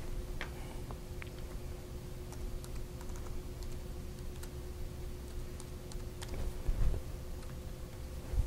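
Keys clatter steadily on a computer keyboard as login credentials are typed for a Windows 8 hotspot captive portal, a quiet run of light taps over a low background hum, with no talking.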